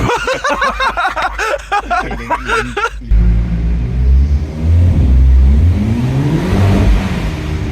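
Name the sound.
car wheels spinning with engine revving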